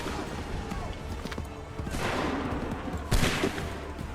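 A volley from a line of soldiers firing muskets on command in Assassin's Creed III, a single sharp crackling burst amid battlefield din after a period of low clamour.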